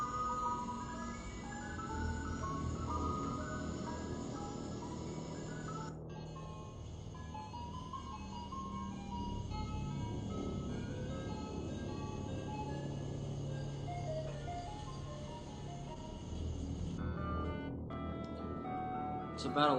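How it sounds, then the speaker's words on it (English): An ice cream truck parked outside a house at night plays its jingle at a distance, a faint, tinkling repeating tune that carries on steadily over a low vehicle hum, with talk in the room. "there's an ice cream truck man outside"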